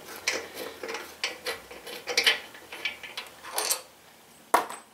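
Metal clicks and ratcheting taps from a hex driver working a fender bolt loose on a 2016 Indian Scout Sixty motorcycle, a scattered run of short, close mechanical knocks with quiet gaps between.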